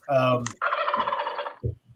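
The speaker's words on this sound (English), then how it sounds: "Sorry, my turkeys are loose." Loose domestic turkeys gobble loudly and close by in a backyard, a harmonic burst followed by a longer rattling gobble and a short low cluck at the end, with no speech.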